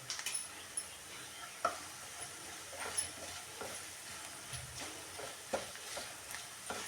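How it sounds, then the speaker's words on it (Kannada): Food frying slowly over a low flame in a pan for a garlic and egg rice dish, with a soft steady sizzle broken by intermittent scraping stirs and small clicks, close by and moderately quiet. "ಸಣ್ಣ ಉರಿ ಇಟ್ಕೊಂಡು ನಿಧಾನಕ್ಕೆ ಇದನ್ನು ಫ್ರೈ ಮಾಡ್ಕೊಳ್ಳಿ"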